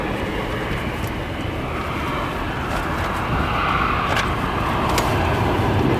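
An arriving airplane roars steadily at O'Hare airport, a broad jet rumble that swells slightly louder toward the end.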